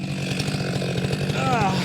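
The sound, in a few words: chainsaw running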